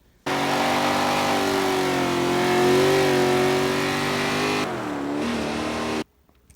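A Holden Torana A9X engine revs loudly and steadily for about six seconds, its pitch rising and falling, then drops to a lower idle-like tone before cutting off abruptly.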